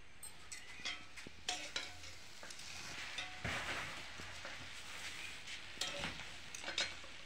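Roti bhaja, pieces of flatbread with spices and tomato sauce, being fried and stirred in a pan in a village kitchen: steady faint sizzle under repeated scraping stir strokes and light clinks of utensil on pan.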